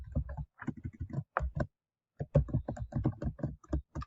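A name being typed on a computer keyboard, with close, rapid key taps in short bursts broken by a pause of about half a second, clear and without talking.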